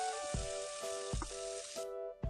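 Lengthwise-sliced tomatoes sauté in a pan for Kerala-style fish pollichathu, a faint sizzle with several soft spatula knocks over a steady background hum.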